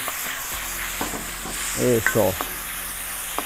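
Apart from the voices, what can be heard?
stir-frying garlic, onion and tomato for lomo saltado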